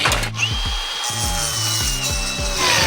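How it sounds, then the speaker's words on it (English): A Sawzall reciprocating saw cuts through a corroded boat hull, its blade chattering in a fast, steady rhythmic stroke with a whining motor tone, loud and close, no talking. "Dude, this is so fast. I don't know what I would do without this Sawzall or something."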